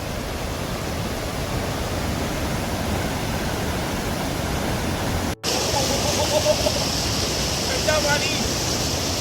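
Clear glacial stream water rushes steadily in Ladakh, a dense, continuous broadband roar close by, with a short dropout midway.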